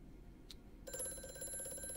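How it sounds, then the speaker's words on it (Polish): A telephone rings in the video game Amnesia: A Machine for Pigs, a bright, sustained electric bell that starts abruptly and keeps ringing steadily over a quiet, faint ambient background, preceded by a brief soft chime. "O, telefon dzwoni."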